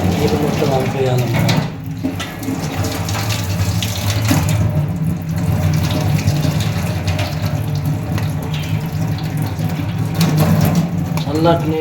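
Cold tap water running over cooked vegetables being rinsed for a vegetable biryani, a steady loud splashing stream throughout with a person talking over it.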